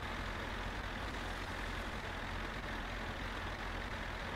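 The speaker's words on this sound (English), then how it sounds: "I think that's his tractor noise." An old tractor laboring up a hill in low first gear, a steady, dense engine drone with constant loudness throughout, close and unbroken with no voices over it.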